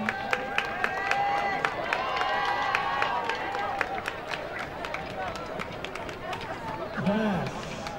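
An audience applauds freshman band members at a high school band and color guard rehearsal, steady clapping and crowd noise filling the space, with sharp individual claps up front and voices mixed in.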